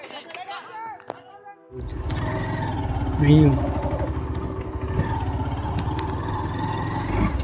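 A motorcycle engine starts on a sandy sea beach at Lalganj and settles into a steady, close, rumbling idle, with voices talking over it.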